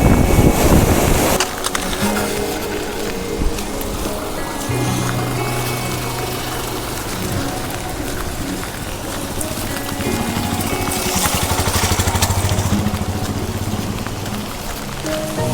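Water released from Maithon Dam in Jharkhand thunders down and throws up heavy spray, making a loud, constant hiss and patter like a downpour, with a low rumble underneath and no talk.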